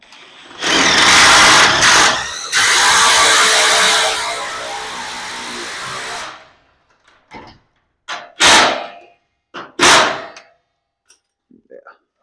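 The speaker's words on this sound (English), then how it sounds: "So just to be safe, we'll throw 1 self-tapper in there." A self-tapping screw is driven into a garage door mounting bracket, giving two long, loud whirring bursts from the driver up close, then several short sharp clanks and taps.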